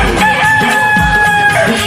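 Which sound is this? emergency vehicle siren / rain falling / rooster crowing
rooster crowing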